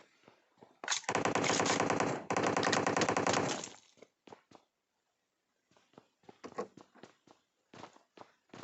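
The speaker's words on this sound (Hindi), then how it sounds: "मैं शॉट गन का एक ही उसको शॉट देता हूँ तो वो हो जाता है नॉक" Automatic gunfire in PUBG Mobile, a long loud burst broken by a brief pause, then scattered single game shots and clicks from a solo-versus-duo match, no talk.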